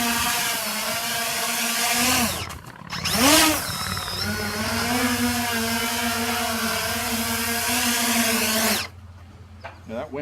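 A 380 mm quadcopter drone takes off outdoors in strong wind. Its loud, close rotor buzz rises and wavers in pitch as it lifts, holds steady for several seconds and then cuts off abruptly.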